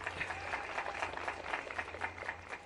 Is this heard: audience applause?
yes